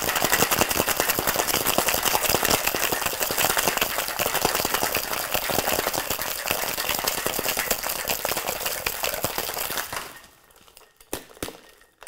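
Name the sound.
shaking a Paper Plane cocktail with ice in a shaker tin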